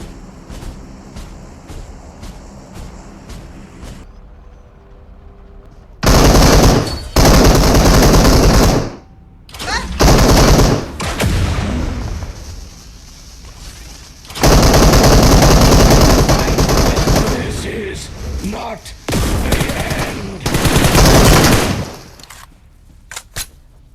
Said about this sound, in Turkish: Dokunmayacağım derken adam bana sıkıyor bu arada.